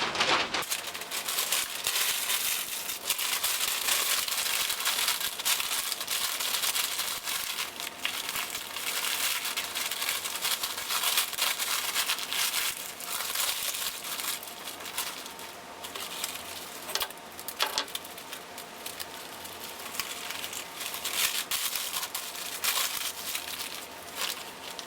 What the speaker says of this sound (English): you want to be crumpling and twisting kind of at the same time